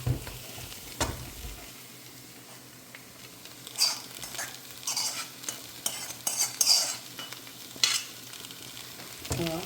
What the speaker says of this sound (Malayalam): അതും കൂടി ഇട്ട് നല്ലപോലെ വഴറ്റിയെടുക്കണം